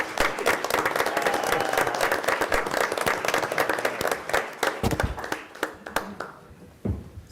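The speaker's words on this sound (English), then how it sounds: "we need to stand and clap" Meeting audience at a city board of commissioners session standing to give a sustained round of clapping, dense at first and thinning into scattered claps toward the end, fairly quiet and without talk.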